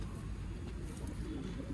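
An old line pigeon, a male of the Rakshasi line, coos softly and continuously at close range amid low rustling, with no talking.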